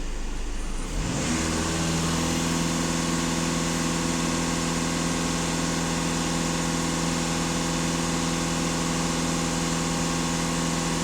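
A VW Golf 2.0 TDI diesel engine is pushed to full throttle while being checked for DPF regeneration problems. It rises within the first second to a loud, steady, sustained drone that holds unchanged for about ten seconds, with no talk.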